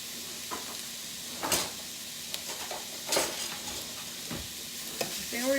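Green beans stir-fry in a hot pan with a steady, close sizzle, while a utensil makes a few louder scraping stirs through the beans and no one speaks.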